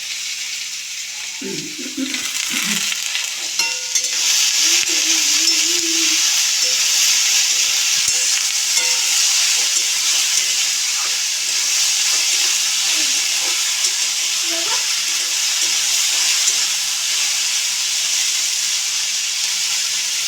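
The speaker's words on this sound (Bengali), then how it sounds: "এগুলো একটু নাড়াচাড়া করলাম।" Capsicum sizzles and fries in a pan with a steady hiss, and a few scraping stirs come near the start.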